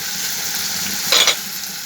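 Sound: mourala fish being added to hot pan, frying

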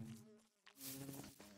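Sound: bees buzzing in Minecraft video game

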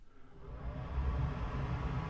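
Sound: fume extractor fan running

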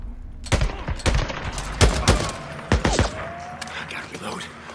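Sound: gunfire in video game Days Gone

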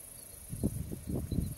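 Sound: camera shutter clicks

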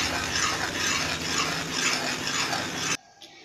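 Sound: spoon stirring cooking liquid glucose in a pan

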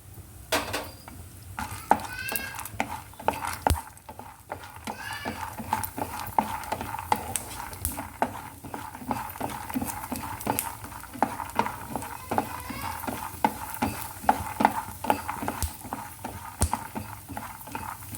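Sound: roasted gram dal frying in a pan

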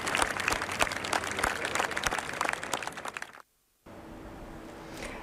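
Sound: timid applause as the funeral procession departs

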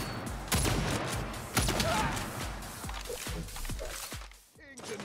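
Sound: minigun firing in Saints Row video game

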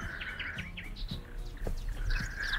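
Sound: birds chirping

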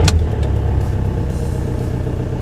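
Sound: Seat Ibiza car engine starting instantly when warm

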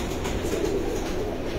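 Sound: breeder pigeons

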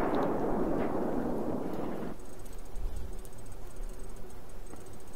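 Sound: commander missile strike explosion in video game Battlefield 4

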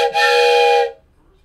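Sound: wooden train whistle blown

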